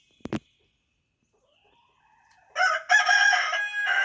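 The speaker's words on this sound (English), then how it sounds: "And that rooster is getting on my nerves." A rooster crows loudly and close by on a farm with milk cows, the repeated crowing phrases following a brief sharp sound and near silence.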